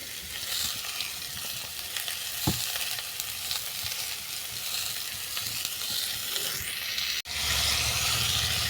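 Turmeric and chili powder fry with betua greens stems in a pan for chorchori, giving a continuous loud sizzle with a sharp clatter early on and a brief knock near the end.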